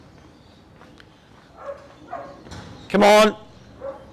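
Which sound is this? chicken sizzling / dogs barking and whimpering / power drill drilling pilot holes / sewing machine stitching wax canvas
dogs barking and whimpering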